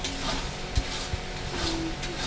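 Mutton being stirred and sautéed in a pan, a dense close sizzle with a few soft thumps and scrapes of the spoon against the pot, steady and alone without voices.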